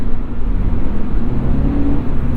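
A 2022 Subaru BRZ under full throttle, its engine droning loud and steady from inside the cabin as it downshifts and pulls hard, a continuous low rumble with no talk.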